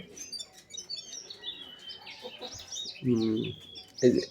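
Young Color Bird breed chickens, soft chirps and peeps scattered through the clip, close by, with a couple of louder clucking bursts near the end.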